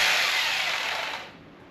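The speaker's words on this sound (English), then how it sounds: "let's get back to drilling this hole and get this thing knocked out" Hammer drill boring into a concrete floor to set an anchor for a two-post car lift, a loud steady high-pitched grinding whine that starts near and fades toward the end of the short burst.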